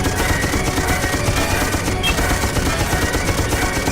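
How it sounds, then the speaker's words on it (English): Continuous loud machine gun fire from a vehicle-mounted gun in the video game Sir, You Are Being Hunted, a dense, unbroken rattle filling the whole stretch. "At least we've got machine guns on this thing."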